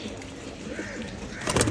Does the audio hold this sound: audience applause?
no